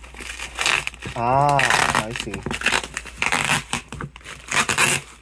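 Crinkly plastic packaging on a custom hitbox being peeled open, producing bursts of crackling and tearing at close range, with people talking throughout.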